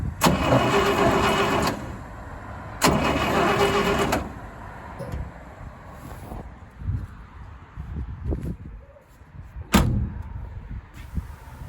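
The V8 engine of a 1964 International Harvester C1100 Travelall cranks over during a compression test in two long bursts with a steady rhythmic chug, separated by a pause, followed by quieter clunks and rattles.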